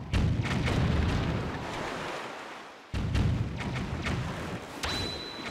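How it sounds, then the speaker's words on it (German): Cannons fire at a gate in the video game The Legend of Zelda: The Wind Waker HD, giving a few heavy booms with rumbling decay against a steady washing background and no voices. "Wieso haben gerade die Kanonen auf das Tor gefeuert?"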